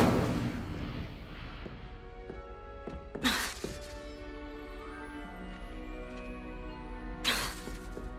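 Incendio fire spell cast in Hogwarts Legacy, a sharp bursting crackle of flame erupting twice, once near the start and again later, each a brief broadband whoosh over a soft tonal game background.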